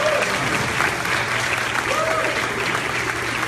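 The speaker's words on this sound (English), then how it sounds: "So please give them a round of applause." A crowd at an NYC Black Pride event gives a sustained round of applause for the event helpers, a dense wash of clapping with voices mixed in.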